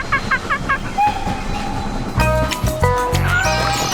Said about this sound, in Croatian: Pogledajte vlak kako prolazi.